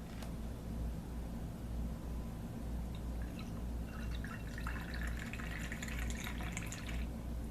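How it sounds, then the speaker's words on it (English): Beer poured into a glass at home for a review, a steady close trickle and fizz that builds into a brighter foamy splash partway through, with no talking. "So let's go ahead and get this one poured."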